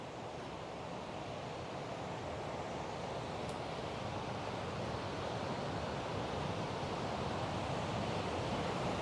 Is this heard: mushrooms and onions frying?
no